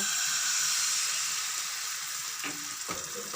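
White batter hits a hot oiled pan and sizzles steadily, a loud continuous frying hiss with a few faint clinks of a utensil near the end.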